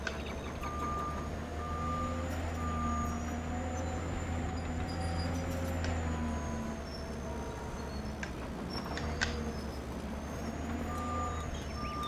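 A reversing excavator in Farming Simulator 22 on a mining map beeps at regular intervals over a steady low engine drone, the tones continuing throughout.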